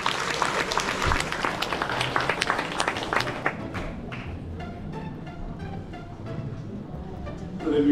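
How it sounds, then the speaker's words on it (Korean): An audience claps to welcome a speaker to the stage, a dense burst for the first few seconds that then thins out and fades into quieter room noise with scattered sounds. "박수로 환영해 주시기 바랍니다."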